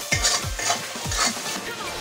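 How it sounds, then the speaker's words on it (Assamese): Turmeric, cumin and coriander powder frying in a pan for a fish curry: a spoon stirs in rhythmic scraping sweeps, about four strokes, over a soft continuous sizzle, close up with no talking. "এতিয়া মই এইখিনি ভালদৰে লৰাই দিম"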